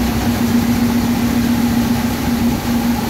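A boat's motor runs at a steady idle, a loud, constant drone with a low hum and no change in pitch, on a boat holding rainwater after a night of heavy rain.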